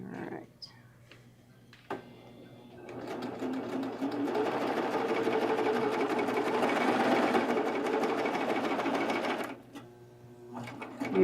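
A serger runs while finishing seams on little boys' shorts, giving a close, steady high-speed whirring buzz for several seconds between quieter handling sounds at the start and end.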